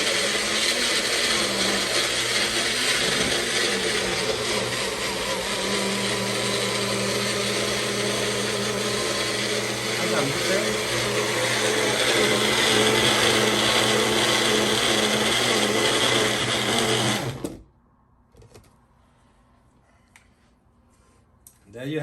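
A Magic Bullet blender runs loud and steady for about seventeen seconds, blending strawberries and banana into a smoothie without ice, then cuts off abruptly into near-quiet room noise.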